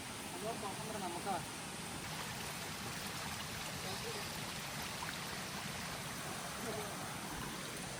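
A monsoon stream near Hosahalli hill in Sakaleshpura flowing steadily, a constant broad rushing hiss heard from close by, with faint voices underneath.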